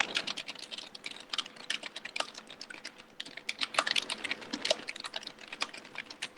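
Rapid typing on a computer keyboard while writing in MS Word, a dense stream of light key clicks and taps at an uneven pace, close and fairly soft, with no talk.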